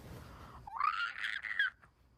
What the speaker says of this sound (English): This frog under my trampoline that is literally screaming at me.